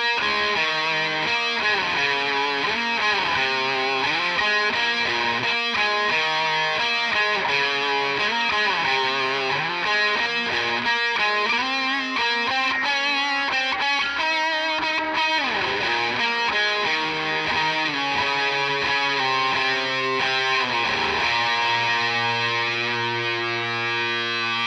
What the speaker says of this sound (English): I hit the second switch and it brings in the fuzz and the delay and reverb again.